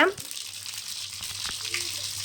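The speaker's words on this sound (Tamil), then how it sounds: "இப்போ அதே எண்ணெயில் கடுகு கொஞ்சம் போட்டுக்கோங்க" Mustard seeds crackle and sizzle steadily in hot oil at close range, with a brief louder burst at the start and faint voices in the background.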